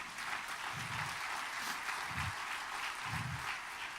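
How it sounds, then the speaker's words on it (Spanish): A church congregation applauding at a service, steady dense clapping that fills the room for several seconds at moderate distance, with a few low muffled thumps underneath and no talk over it. "Denle un aplauso a Jesús."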